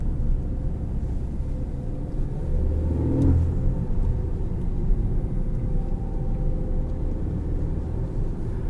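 A 2018 Ford Focus ST with a turbocharged engine accelerates, heard from inside the cabin as a loud, steady low engine rumble with a brief swell partway through and no voices.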